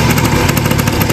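A rebuilt motorcycle engine running hard after a new carburetor was fitted, a loud, close, rapid buzzing rattle of exhaust pulses with a steady high rev and no voices over it.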